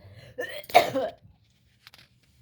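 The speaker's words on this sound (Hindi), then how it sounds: "खांसी हो रही है।" One or two harsh coughs up close, followed by quiet and a faint click.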